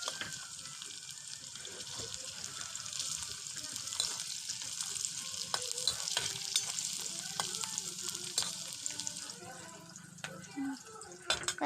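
Banana flower and potatoes frying with chili in a little oil, a steady close sizzle with occasional stirring clinks and scrapes throughout, softer toward the end.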